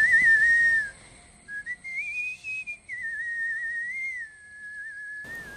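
A person whistles a smooth, sustained melody with the tongue against the teeth, sliding up and down in pitch. The clear, solo tone runs alone with short breaks and no talking.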